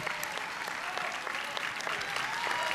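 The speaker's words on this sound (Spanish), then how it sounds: "aplaudan nomás" Steady audience applause at a Teletón 2023 comedy performance, continuous crowd clapping at an even level with a few louder individual claps standing out.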